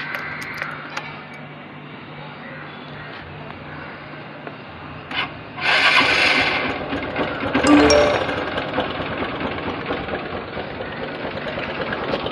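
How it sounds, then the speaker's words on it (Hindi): A Honda CB Shine 125cc motorcycle engine idles with a rapid chugging knock, then revs up twice, louder, before settling back to a steady idle. "लास्ट में आप लोगों को इसका एक बार इंजन साउंड सुना देता हूँ"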